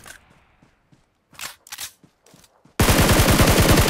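Gunfire in PUBG Mobile, apparently from a Scar-L aimed at a vehicle: a few scattered single shots first, then a loud, rapid, continuous automatic burst close by at the end.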